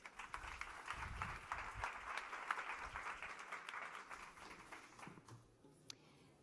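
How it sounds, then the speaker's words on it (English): Audience applause welcoming a speaker at a film event, dense steady clapping that carries on evenly before thinning and fading out near the end; the level is quite low overall. "Give a warm applause to Malene Blenkow."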